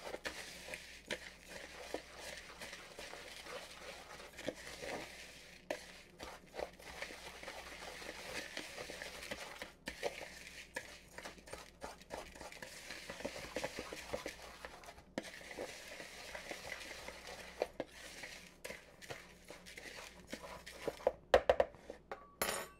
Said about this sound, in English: I'm just going to go ahead and use my fork to break those up.